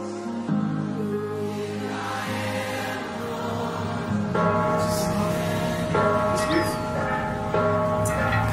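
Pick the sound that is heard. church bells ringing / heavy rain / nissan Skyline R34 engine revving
church bells ringing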